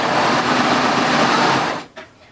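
A sewing machine stitches elastic onto a knit skirt piece for a baby dress, running in a steady close whir for most of the moment before stopping abruptly.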